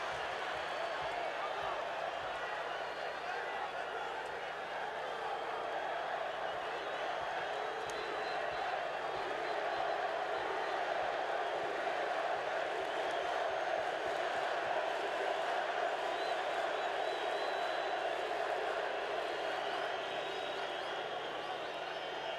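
A football stadium crowd at a Concacaf Nations League match between Guatemala and Panama roars as a steady, distant wash of noise with whistles and cheers, a commentator talking over it throughout.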